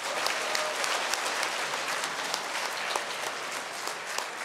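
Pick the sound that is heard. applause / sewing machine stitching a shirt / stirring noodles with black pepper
applause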